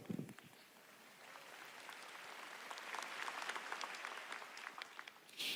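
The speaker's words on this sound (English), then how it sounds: "A round of applause for math." Audience applause at a large tech keynote event, a sustained wash of many hands clapping that swells and holds for several seconds, fairly distant and diffuse in a big hall.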